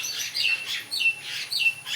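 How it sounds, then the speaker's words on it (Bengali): Several birds call in quick, repeated squawks and chirps as they gather to peck at biscuit crumbs in the morning, the calls close and fairly soft, with no voices over them. "এই দেখো কত পাখি এসছে, দেখো।"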